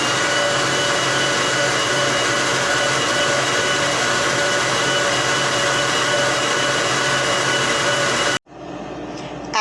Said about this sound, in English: We're going to bump up that mixer